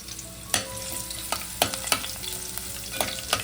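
Crushed garlic fries in hot oil, a constant close sizzle punctuated by sharp scraping stirs of a spoon in the pan every second or so, with no voices.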